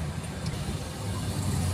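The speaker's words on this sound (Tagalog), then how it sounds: "so mabilis yung takbo ng sasakyan dito" A green cab moves quickly through light city traffic, heard from inside as a faint, steady low road rumble with engine hum.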